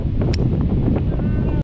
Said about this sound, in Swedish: Det kommer riktigt mycket vind nu, så jag tror att stormen är på väg.